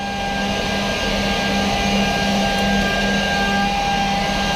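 An industrial Fravol edge banding machine running steadily with end trim saws and corner rounding, a loud continuous mechanical drone with a constant low hum and steady high whine throughout, no voices.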